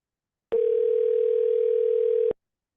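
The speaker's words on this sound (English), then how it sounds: "If you can hear that ringing, just give me a thumbs up." A single telephone ring tone sounds on an outgoing call, a steady tone lasting about two seconds that starts and stops abruptly, heard clearly against silence.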